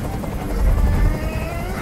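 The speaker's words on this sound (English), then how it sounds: "Tell that helicopter to get out of here!" A helicopter in the video game Detroit: Become Human drones with a low, throbbing rotor rumble, loud and continuous, filling the whole stretch without speech.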